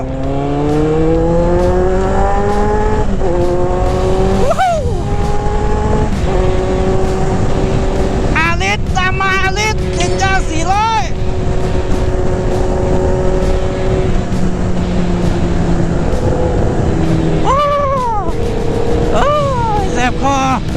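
A group of more than ten big-bike motorcycles rides together, engines revving and accelerating in repeated rising sweeps, loud and close throughout over steady wind and road roar.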